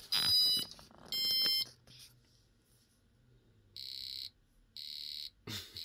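An Arduino passive buzzer from an Elegoo starter kit sounds four short electronic beeps at the same high pitch, arriving in pairs with a quiet pause between them, fairly soft overall.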